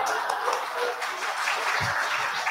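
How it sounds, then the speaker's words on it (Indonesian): Audience applause at a public law lecture, a steady wash of clapping from a seated crowd that holds evenly for a couple of seconds with no voice over it. "tepuk tangan"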